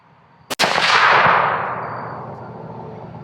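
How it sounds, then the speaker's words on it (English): A single loud Winchester Model 70 rifle shot cracks sharply right after a brief click, then a long booming echo rolls away and fades over a couple of seconds, outdoors and up close. "I'm gonna shoot again."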